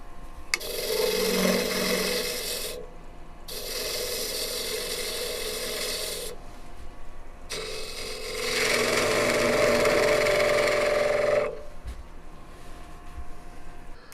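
A wooden blank for a magician's ball-and-vase piece spins on a lathe as a tool cuts its corners away, making loud, rough scraping bursts that stop and start with short pauses between them.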